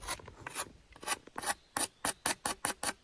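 Coarse stone scrapes against a flint edge in rapid, rhythmic rasping strokes, close and fairly quiet, settling into an even back-and-forth grinding pattern.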